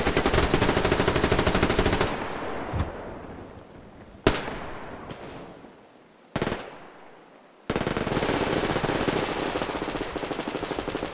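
Bursts of automatic gunfire in the shooter game Survarium: loud sustained rattling volleys at the start and end, with a few single sharp shots and short bursts in between, no voices.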